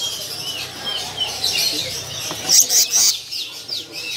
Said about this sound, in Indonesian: Selendang biru rawatan ya, burung sudah semi fur, ini udah rajin bunyi ya.